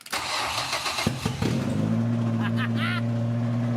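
A 1985 Ford Ranger engine cranks briefly and catches, settling into a steady idle up close; a voice speaks over the running engine.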